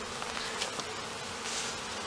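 Honey bees buzz continuously around a syrup feeder, a dense close hum of many wings with no other sounds.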